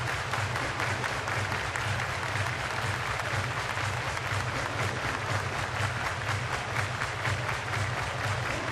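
Crowd noise at a baseball stadium during an Astros at Pirates game in Pittsburgh, a steady, broad roar of cheering and clapping sustained throughout, heard from a distance without pauses.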